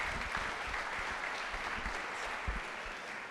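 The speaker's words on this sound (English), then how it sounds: "offer him a warm round of applause as he makes his way up" Audience applause at a school Grandparents Day gathering as the head of school walks up to the stage, a steady wash of clapping throughout, fairly soft and distant.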